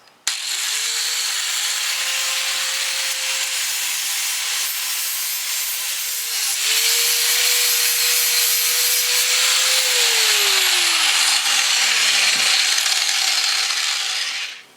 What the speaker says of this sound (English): I'm going to clean this paint off the bottom ridge there.